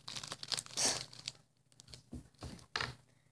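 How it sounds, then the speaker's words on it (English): Starburst and Kit Kat candy wrappers are unwrapped close by in a few sharp bursts of crinkling and tearing, with short quiet gaps between them. "You don't get to unwrap those because you already unwrapped the first wrapper."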